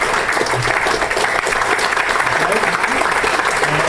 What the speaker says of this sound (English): A round of applause for Megan.